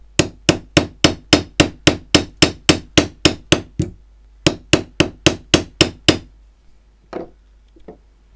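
A hammer strikes a piece of Roman lead in two fast, even bursts of sharp metallic blows, about twenty in all, close and loud, followed by a couple of fainter knocks.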